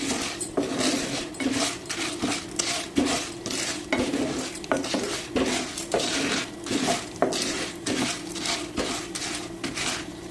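Popcorn kernels being stirred in oil in a pan on a high-flame stove, with a spoon scraping and clinking against the metal in an irregular repeating rhythm, close and loud with no talk.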